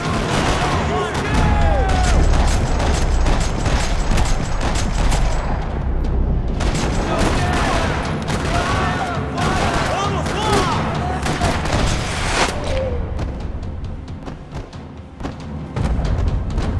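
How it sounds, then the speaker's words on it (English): Dense gunfire in the Max Payne 3 video game, a parking lot shootout with rapid bursts of automatic weapons and single shots cracking continuously, heavy thuds mixed in, loud and close throughout the whole stretch. "Another parking lot rattling with gunfire."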